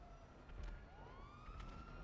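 A siren wails from an ambulance in a video game, a rising and steady electronic tone sounding faint and distant over a low rumbling game background.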